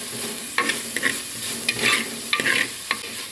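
Tomato fries in a hot pan, with a soft sizzle broken by several quick scraping stirs of a spoon against the metal, close and fairly clear.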